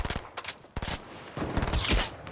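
Rapid turret gunfire in the video game Fortnite, dense bursts of loud automatic shots crackling close up with brief gaps between volleys.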